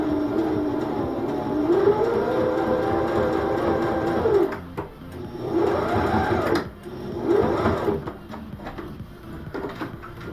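A sewing machine stitching stretchy fabric for a passport case, its motor whirring in three loud runs that speed up and slow down with brief pauses between, close and unaccompanied by talk.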